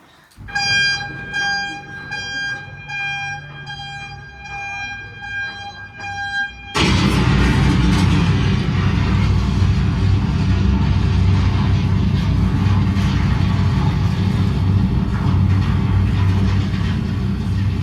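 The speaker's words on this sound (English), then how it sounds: "as if they were blowing it with dynamite to get the diamonds and the rocks to fall" A simulated dynamite blast in a diamond mine tunnel, staged for visitors, begins with a steady warning horn, then breaks into a sudden loud, sustained roar of rumbling blast and falling rock that fills the space.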